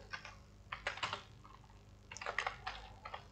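Python code being typed on a computer keyboard: quick, fairly faint clusters of keystrokes in uneven bursts with short pauses, no talking.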